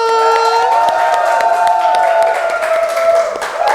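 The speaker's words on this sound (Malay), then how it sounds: "Tepuk tangan dulu untuk Kala Melayu." A crowd claps and cheers loudly, with scattered handclaps under sustained shouting and whistle-like calls, close and lively throughout.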